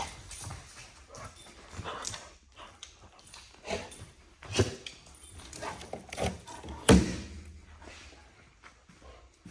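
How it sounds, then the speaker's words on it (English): A seven-month-old puppy whimpers and whines softly in bursts beside a 1981 Chevrolet Camaro Z28, mixed with faint shuffling and scrabbling noises, fairly quiet and close. "This darn dog."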